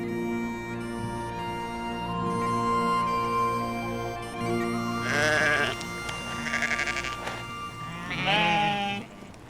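Sheep of an old hardy domestic strain in the Scottish Highlands bleat several times, with a few loud, wavering calls in the second half. Steady background music plays throughout.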